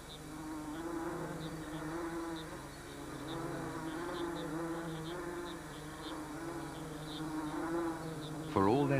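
Wasps buzz steadily around a nest in a hole in a mahogany tree, a continuous layered drone of many insects heard close, with a sharper sound bursting in just before the end.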